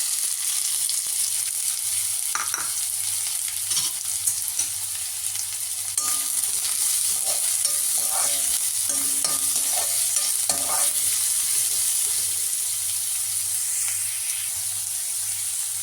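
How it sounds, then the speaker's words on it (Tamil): Onions fry in leftover oil for chilli idli, a steady soft sizzle and hiss with intermittent stirring scrapes, close and continuous, with no talking. "இப்போ அந்த பொரித்த எண்ணெயை எடுத்துட்டு கொஞ்சம் வச்சுக்கிட்டு அதில் வெங்காயம் போடணும்."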